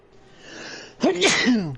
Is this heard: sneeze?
yes